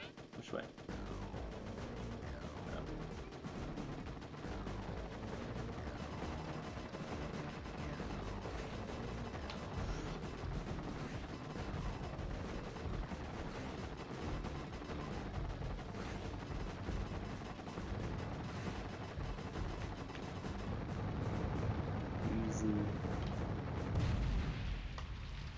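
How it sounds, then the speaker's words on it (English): Homing missiles and other weapons fire in the Heavy Weapon video game, a dense continuous barrage of booms and rapid shots that grows heavier toward the end, with talking mixed in. "Homing missiles."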